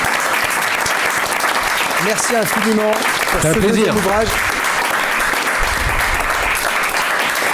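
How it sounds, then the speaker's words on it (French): A French television studio audience applauds author Philippe Pascot with steady, dense clapping that runs through the whole stretch, while someone speaks over it partway through. "Pilleurs d'État, sous vos applaudissements"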